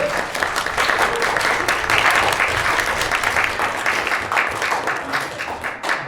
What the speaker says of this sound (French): Nous avons donc Pascal Chemin. Vous pouvez applaudir, s'il vous plaît.